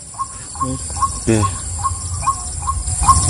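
A white-breasted waterhen gives a repeated series of short calls at an even pace from some distance outdoors, with a brief spoken word partway through.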